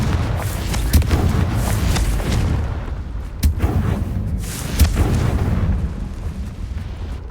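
Fire-spell blasts in Hogwarts Legacy erupt as booming explosions, with several heavy bursts and crackling impacts over a rumbling combat backdrop.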